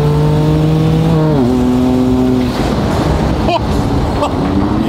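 A Ferrari Enzo engine revs hard and loud, its pitch climbing, then dropping sharply at a quick gear change before building again, close and dominant throughout.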